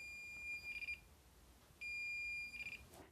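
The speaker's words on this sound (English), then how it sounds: "Now, one thing I'm a huge fan of with the Flukes is they have a volt alarm on them." A Fluke multimeter's volt alarm beeps in two short bursts of high electronic tone, faint and clean against a quiet background hiss.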